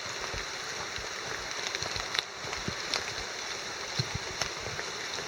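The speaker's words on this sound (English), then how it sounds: "There's Minister Creek." Minister Creek flows through the Allegheny National Forest in Pennsylvania in autumn, a steady close-up babble of water with a few small splashes and knocks, moderately quiet, with no voices.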